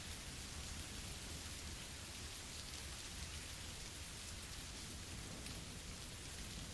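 Steady heavy rain falling on surfaces, a constant even hiss of dense drops with no breaks and no voices.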